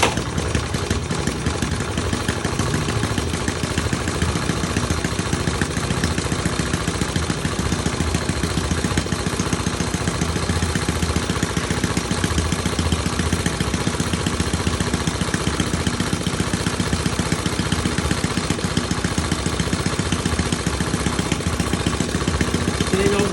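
A scooter engine idles steadily after starting, a constant close, loud buzzing hum with an even rhythm throughout and no speech on top.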